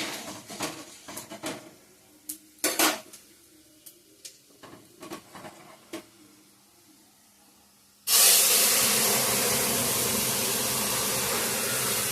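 Onion, dry chilli, bay leaf and panch phoron tempering poured into dal: a few clinks and taps of cookware, then a sudden loud, steady hissing sizzle that continues close until the end.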